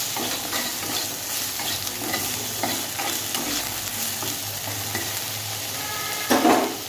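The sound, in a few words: eggplant frying with salt and turmeric in a pan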